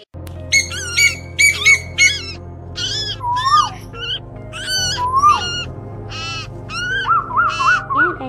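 Recorded calls of migratory birds played as a trapping lure: loud, close, repeated squawking and whistled calls in rhythmic phrases over a steady low electronic hum, with no talk.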